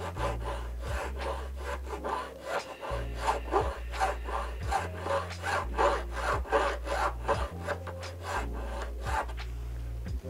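A metal file worked over an ice screw, scraping in a steady series of rasping strokes up close with no talking.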